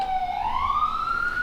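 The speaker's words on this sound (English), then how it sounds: "No, it's an ambulance." An ambulance siren passes on the street outside a radio studio, a single loud wailing tone that rises steadily in pitch and sounds alone without talk.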